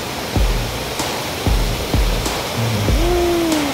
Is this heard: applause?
no